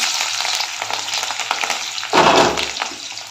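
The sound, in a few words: chilli and garlic frying in oil in a kadai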